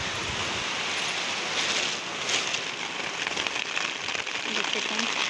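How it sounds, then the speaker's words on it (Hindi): Heavy rain pours onto garden plants, a loud, dense, constant hiss and patter of drops close by, with a voice speaking over the downpour. "देखिए कितने ज़ोरों से बारिश हो रही है, आपको दिख रहा होगा।"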